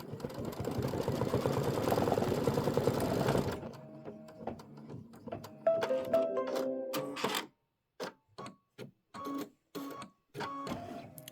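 An embroidery machine stitches an applique tack-down line for a quilt block, a close mechanical whir with steady rapid needle clatter at first, then stop-start bursts of stitching separated by short pauses.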